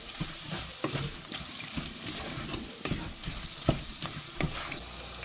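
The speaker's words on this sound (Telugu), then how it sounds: "నగెట్స్ వేసాను, మంచిగా కలబెట్టుకుంటున్నాను" Chicken nuggets are stirred into spicy Indian-style chicken fried rice frying in a pan, with a continuous sizzle broken by repeated scraping and knocking of the spoon against the pan, and no talking.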